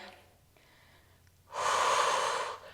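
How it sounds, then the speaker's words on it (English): During a Pilates strength workout, one soft, drawn-out inhale through the nose is followed by a forceful, louder exhale through the mouth that lasts about a second, close and clear. "breathing deeply in through the nose and out through the mouth"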